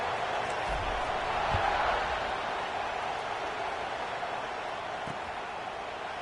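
Stadium crowd in an American football video game, a steady broad buzzing roar at moderate distance that swells briefly and then holds level.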